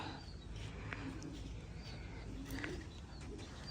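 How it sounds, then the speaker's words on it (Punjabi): Pet pigeons kept by a Punjabi fancier coo faintly in low, soft bursts against a steady hiss of outdoor background noise, with a few light chirps scattered through. "ਆਹ ਕਰਦੇ ਕਬੂਤਰ ਸਾਡੇ"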